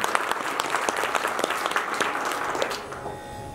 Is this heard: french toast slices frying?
no